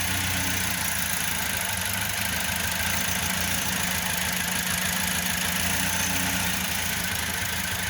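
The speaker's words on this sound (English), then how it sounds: "we managed to get the engine started. The battery was a little low, but listen to that grumble." A 2010 Toyota Hiace van engine with a slightly low battery idles close by in a steady, rough grumble with a low knocking pulse that holds evenly throughout.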